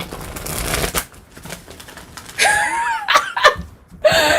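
Tarot cards are shuffled in brisk riffling bursts, close and fairly loud, separated by short pauses, with faint rustling and handling between the bursts.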